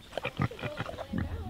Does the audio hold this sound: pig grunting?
yes